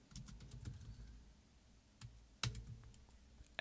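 Typing on a computer keyboard at a Mac terminal: faint, sparse key clicks in short bursts, with a couple of sharper, louder taps near the end.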